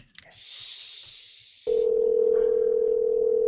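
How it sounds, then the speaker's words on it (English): A phone call on a radio show sounding through the line as a steady, loud, continuous ringback tone after a brief burst of hiss and noise. "It's ringing."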